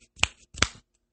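Two crisp finger snaps close to the microphone, about a third of a second apart, sharp and dry in an otherwise quiet moment.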